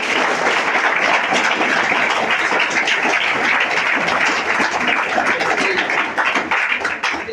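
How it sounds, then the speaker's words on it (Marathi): A hall audience at a Guru Purnima gathering claps loudly and continuously to honour their teachers. The dense, close applause tapers slightly near the end. "जोरात टाळ्या वाजवून."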